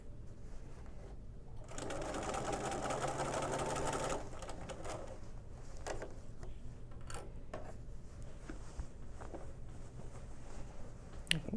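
A sewing machine stitches a quilted jacket in a fast, steady run of a couple of seconds, followed by quieter fabric handling and small ticks nearby.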